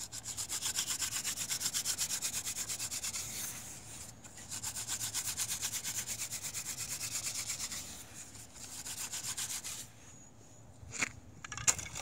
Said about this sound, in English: now I'm going to use the point of this spindle so far and just lightly drill